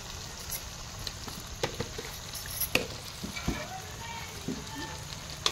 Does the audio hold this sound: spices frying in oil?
yes